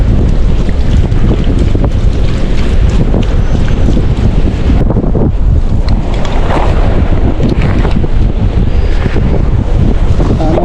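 Strong northeast monsoon wind, the amihan, blasts across the sea during a fishing trip, buffeting the microphone in a loud continuous roar mixed with waves and boat noise.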